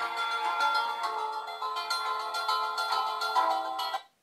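A Holife digital alarm clock plays a bright plucked melody in a guitar or harpsichord-like tone, with steady repeating notes lasting about four seconds before cutting off abruptly.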